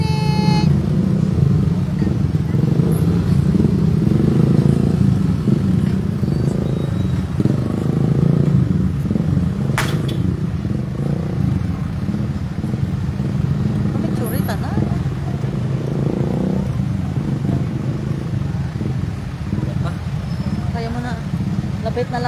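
A motorcycle rides in a roadside caravan through town, with a steady engine drone and road rumble running the whole time. Traffic noise and a brief sharp clank break in partway through, and a voice talks over it now and then.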